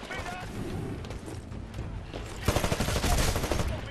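Gunfire in the Titanfall video game, a continuous rattle of shots and explosive impacts that grows louder and more rhythmic in the second half, with voices mixed underneath.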